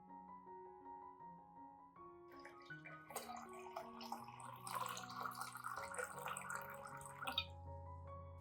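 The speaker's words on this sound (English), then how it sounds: "Add 1 liter of clean water to dilute the solution." Water pours and splashes steadily into a container of fertilizer solution, rising to a fuller gush midway over soft background music, then tapering off.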